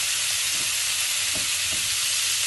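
Two medium, roughly chopped tomatoes hit hot oil with frying ginger for butter chicken, giving a steady, continuous sizzle and hiss that stays close and even throughout.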